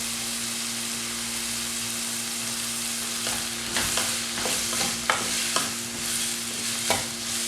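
Ginger, garlic and onion sauté with salt in a pan, a constant close sizzle broken by a series of distinct spoon scrapes and knocks from stirring. There is a steady low hum underneath and no speech.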